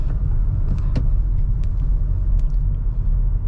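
A Honda Elevate rolls along at low speed in fourth gear, its engine a steady, deep rumble heard from inside the cabin, with faint small clicks and no talking.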